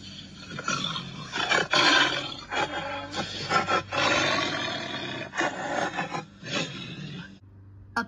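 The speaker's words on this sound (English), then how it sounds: "A tiger goes." A tiger roars repeatedly, loud and close, in a series of deep rumbling bursts with short pauses, some rising and some fading. No voices accompany it.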